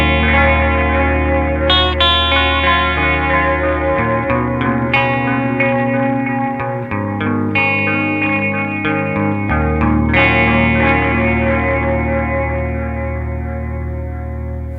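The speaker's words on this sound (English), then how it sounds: "so it's just the full chorus effect" Electric guitar run through a Red Witch Titan delay pedal set to full chorus, with swirling, shimmering sustained chords and picked notes ringing loud and close, layered with echo over about fifteen seconds.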